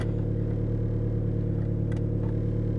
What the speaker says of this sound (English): But listen to that exhaust. That is something there.